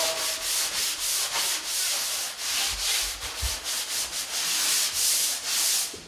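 Steady, rhythmic scraping of a hand sanding block rubbing back and forth across drywall mud, close up, with no voices.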